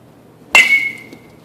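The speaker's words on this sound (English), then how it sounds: "Loud. Very loud. BESR bats are known for that." Rawlings 5150 BESR aluminium baseball bat striking a ball: one sharp, loud metallic ping with a bright ringing tail that fades over about half a second.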